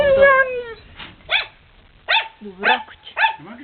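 A dog barks and whimpers nearby in a series of short yelps and whines, several sharp barks spaced out over a few seconds with whimpering between them.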